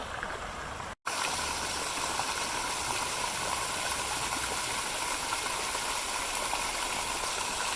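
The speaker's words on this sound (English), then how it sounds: "You might be able to hear there's a fountain in front of the station" A fountain in front of an Amtrak railway station splashes in a constant broad hiss of falling water, steady and unbroken after a brief cut near the start.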